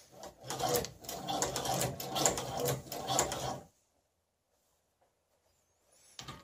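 A Chinese leather sewing machine stitches through leather with a fast, steady mechanical chatter for about three and a half seconds, then stops, leaving near silence before a brief clack at the end.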